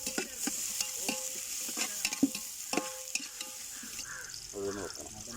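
Onions frying in oil in a pot for kappa biriyani, a close hiss of sizzling with clattering stirring strokes and scraping, a voice briefly heard toward the end.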